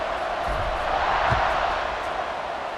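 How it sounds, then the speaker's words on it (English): Stadium crowd in the College Football 26 video game after a touchdown drive, a broad steady roar of cheering that swells slightly at the middle and stays loud and continuous throughout, with no clear talking. "this crowd is feeling themselves after that last drive"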